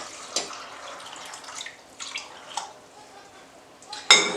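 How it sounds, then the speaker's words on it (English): Water runs and splashes into a pot for Great Northern bean soup with a hollow, uneven pour, ending in a brief louder gush near the end. "And add some water."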